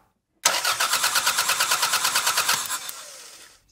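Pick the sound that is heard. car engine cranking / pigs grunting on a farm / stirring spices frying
car engine cranking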